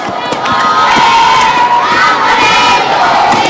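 A crowd of young children at a 2006 women's singles badminton World Championship match in Madrid cheers and shouts loudly and continuously, high-pitched voices filling the hall without a break.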